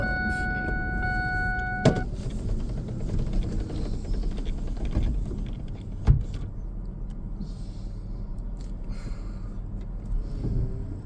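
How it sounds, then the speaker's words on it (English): A car starting to move, with a steady engine and road rumble throughout, a brief whirring power window at the start, and a couple of sharp clicks or knocks, heard from inside the vehicle. "I gotta get this car moved"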